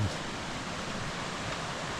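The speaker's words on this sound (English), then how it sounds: "nice little waterfall in there too." A small waterfall spilling at a beaver dam on a creek portage in Quetico, a steady, close, dense rushing hiss of falling water with no voices.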